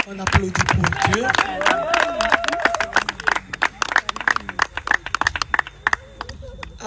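A church congregation claps in sharp, uneven bursts under prominent voices that carry on over the clapping, close and lively throughout.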